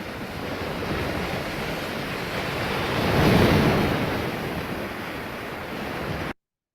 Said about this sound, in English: you put in your text waves crashing on a hill in the ocean.